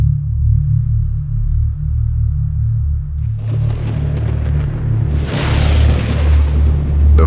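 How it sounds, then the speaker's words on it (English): Deep, heavy rumbling boom from a medium-sized meteorite striking the Earth, a sustained low roar that swells into a broad, loud blast with crackling debris, no voices. "A medium-sized meteorite crashed into the Earth."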